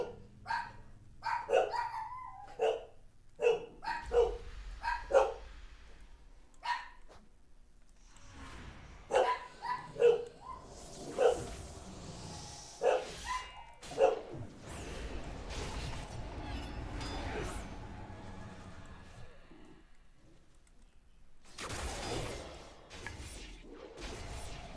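Dogs bark in a series of sharp, repeated yaps in short bursts, moderately near, with quieter stretches and some rumbling background noise between them.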